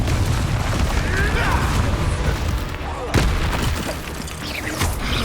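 Confringo fire spell blasts in Hogwarts Legacy, a sustained roaring burst with a sharp crack partway through, loud and dense amid game combat noise, with a voice heard briefly.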